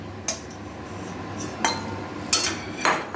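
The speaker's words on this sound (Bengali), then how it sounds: "বড়ি ভাজা হয়ে গেছে, বড়িগুলো দিদি একটা বাটির মধ্যে তুলে নিচ্ছে।" Fried lentil dumplings (bori) being lifted into a bowl while cooking potol korar ghonto, with four separate metallic clinks of utensil against dish spaced about a second apart over a low steady background hum.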